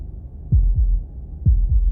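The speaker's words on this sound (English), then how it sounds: "That was the sound of a heartbeat" Heartbeat in the video game Slay the Princess: two pairs of deep, thudding lub-dub beats, close and isolated over a low hum, with no talking.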